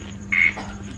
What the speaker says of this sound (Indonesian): Suara kodok.